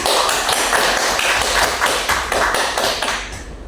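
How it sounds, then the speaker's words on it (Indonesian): Classroom applause from a group of students, a dense burst of rapid claps that holds steady for a few seconds and then fades out at the end. "Berikan aplaus dulu"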